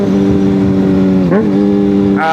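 Honda CBR600RR sport bike with an aftermarket exhaust, no catalytic converter, revving loud and close with a steady harmonic engine note that dips and rises through a quick gear shift, then climbs in pitch near the end.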